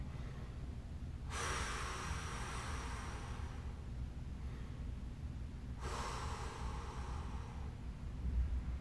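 Two long, deep, audible breaths are drawn in and let out slowly during a stick mobility stretch, each a breathy rush over steady background hiss, with no talking.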